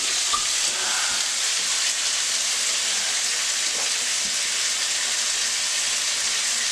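Slider patties and onions frying on a pan give a steady, close hiss of sizzling with faint crackles throughout, no voices.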